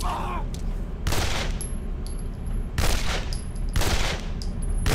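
Repeated bursts of gunfire in the video game Condemned crack out in three loud, dense volleys spaced about a second and a half apart, over a constant game background hum with no speech.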